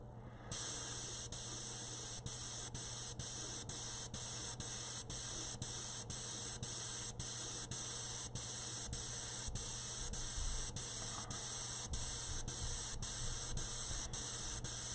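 Spray gun laying down a candy paint undercoat on a bio-mechanical cyber girl figure, giving a loud, steady hiss that starts abruptly and runs continuously with faint rhythmic pulsing.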